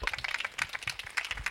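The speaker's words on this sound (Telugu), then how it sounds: "వారిని బట్టి అందరూ ఒకసారి క్లాప్స్ కొడదాం." A church audience claps for visiting guest preachers at a Christmas service, a brief burst of dense, steady applause from many hands.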